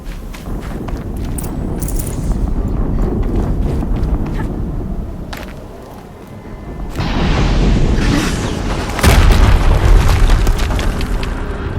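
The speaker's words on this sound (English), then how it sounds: "explosion." A loud booming explosion bursts from the Horizon Zero Dawn video game, rising out of dense game noise and rumbling effects, with heavy low-end impacts toward the end.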